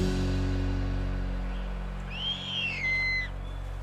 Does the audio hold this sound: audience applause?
no